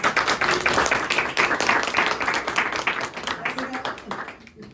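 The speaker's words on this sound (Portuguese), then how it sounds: "Por favor, uma salva de palmas." Audience applause at a certificate ceremony during a community heritage gathering, a dense, steady round of clapping that fills nearly five seconds before thinning and fading at the end.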